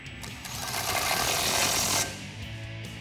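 A ratchet wrench with a 16 mm socket tightens a bolt on a black winch-mount grille guard for a 2019-2021 Silverado 1500 HDX, one close, continuous burst of rapid clicking for about two seconds, then quiet.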